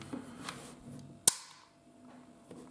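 A WE gas blowback Colt Government M1911 short Hi-Capa airsoft pistol fires a single sharp near crack mid-clip, with faint mechanical handling clicks before and after.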